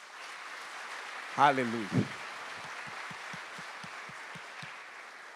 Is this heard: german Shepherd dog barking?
no